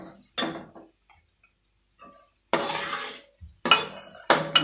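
A spoon scrapes and clinks against a pan while rice flour laddu mixture with almonds and coconut is stirred, coming in several separate loud bursts with quiet gaps between them.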